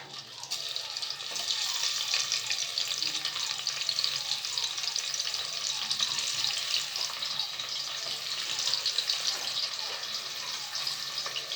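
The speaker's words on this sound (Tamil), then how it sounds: "வெங்காயம் வதக்கி விடலாம்." Sliced onions fry for a vegetable biryani with cloves, cinnamon and bay leaves, giving a steady bright sizzle that holds evenly throughout, close by and with no voices.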